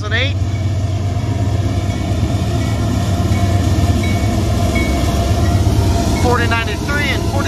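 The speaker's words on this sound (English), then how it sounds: "Westbound intermodal. This thing just departed Rose Yard." A westbound intermodal freight train departing Rose Yard rolls past nearby, a loud continuous rumble and rail roar with squealing wheel tones near the end.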